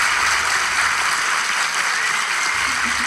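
A studio audience claps for a show host on stage, giving a short burst of dense, sustained applause.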